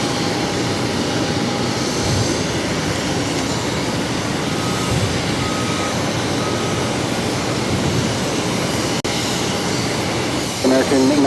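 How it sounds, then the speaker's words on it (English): An Air Canada Express Dash 8 turboprop taking off toward Halifax gives a loud, steady engine roar that holds throughout, with a faint tone near the end. "Up next we have Air Canada Express Dash 8 taking off to Halifax 664."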